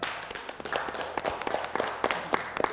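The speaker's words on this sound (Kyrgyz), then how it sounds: "Кол чаап коюңуздар." A studio audience on a Kyrgyz family game show claps steadily, a dense run of close, overlapping hand claps.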